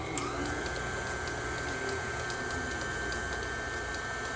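An electric mixer whirs steadily through butter batter with a constant motor hum and light rhythmic ticking, running close by without pause.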